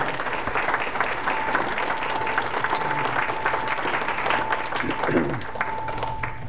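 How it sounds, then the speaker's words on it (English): A debate audience for a commissioner general election applauds with steady, moderately loud clapping, mixed with faint murmuring from the room. "Let's give a round of applause for Carl and Diana."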